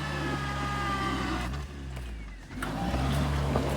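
A petrol-engined off-road vehicle revs hard over rough terrain, its engine droning loud and close with a brief dip in pitch and load midway before climbing again.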